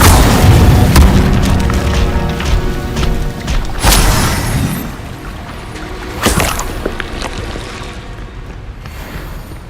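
Incendio fire spell cast in the Hogwarts Legacy video game, a loud booming blast with crackling bursts that recur around four and six seconds, alone with no voices.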